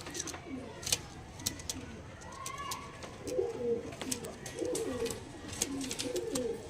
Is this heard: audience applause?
no